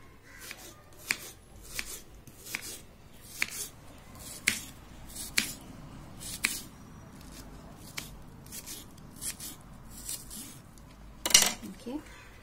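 An onion is cut with a knife on a board for a vegetable roll: about a dozen sharp, separate taps spaced roughly a second apart, fairly quiet against a low room background.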